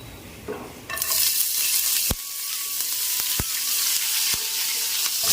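Cumin and green chillies hit hot oil in a pan and burst into a loud, steady hiss that keeps going, with a few sharp clicks of a spoon stirring against the pan.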